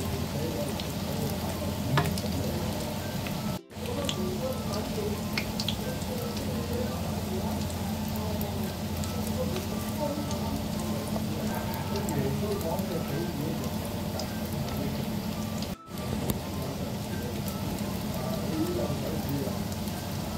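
Pancit canton balls with corned beef frying in hot cooking oil: a dense, steady sizzle and crackle runs throughout at an even level, with two brief dips in the sound.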